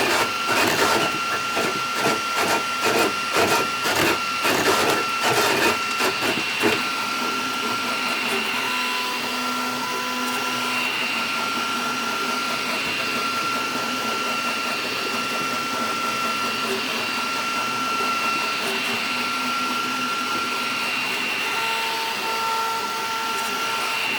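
Flashforge Adventure 5M 3D printer printing a .444 Marlin loading block, with rapid clicking stepper pulses early on, then a steady whirring motor hum with tonal whines, loud and close throughout.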